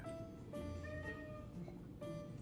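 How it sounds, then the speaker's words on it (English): Faint, intermittent cat meows at a distance over a steady low room noise, a few short cries spread across the moment. "looks like my cat wants to be in the video too, so if you hear the meowing, that's what it is"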